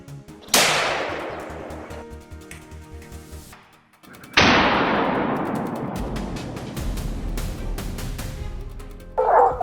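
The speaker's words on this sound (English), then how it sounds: "A gunshot rang out in the cornfield." Two loud gunshots ring out in a cornfield during a wild boar hunt in Iowa, each a sharp crack followed by a long rolling echo, with dogs barking and yelping through the background.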